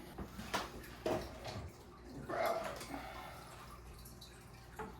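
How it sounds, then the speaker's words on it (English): Water scooped and sloshed out of a backyard fish pond holding large pacus, heard as a few irregular close splashes and drips over a quiet background, with no talking. "So let's get some water out."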